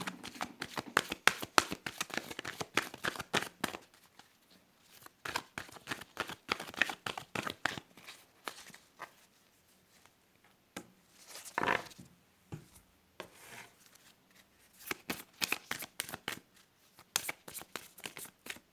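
Angel tarot cards shuffled by hand in repeated bursts of crisp riffling and flicking, with short pauses between rounds, close and fairly loud throughout.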